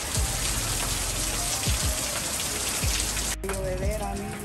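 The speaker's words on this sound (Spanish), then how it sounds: "Hey, miren amigos, está lloviendo y salió el sol." Rain falls steadily in a dense, even hiss after a hailstorm in New Mexico, with sunshine overhead and a few low thumps mixed in.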